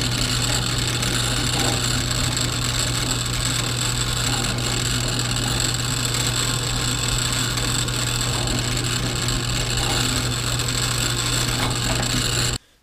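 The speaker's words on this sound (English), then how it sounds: "just to use the drill press, and I'll drill this one through" Steady, loud machine drone with a constant whine and grinding hum, a drill press boring into an aluminum piston from a Caterpillar D2 tractor, running continuously before stopping abruptly.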